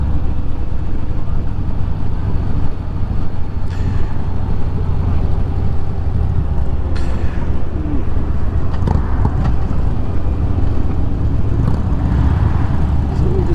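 Steady, loud wind rush and road roar from a motorcycle cruising on a highway toward a toll, continuous throughout with no talking.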